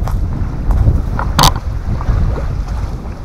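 Strong wind gusts across a lakeshore campsite, buffeting the microphone with a loud, continuous low rumble, broken by one brief sharp rustle partway through.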